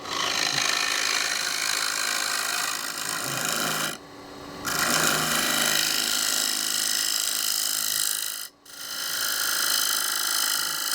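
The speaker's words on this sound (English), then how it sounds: "Oh God, this chisel's starting to get dull." A dull chisel working through wood, with continuous loud rasping and scraping strokes that break off briefly twice before resuming, close and with no talk.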